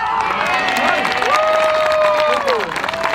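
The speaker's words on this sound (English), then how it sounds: "Another round of applause, please, for this family" Crowd applause and cheering at a youth baseball opening-day ceremony at a ballpark, steady and continuous with a high whistle-like tone sliding across it and voices mixed in.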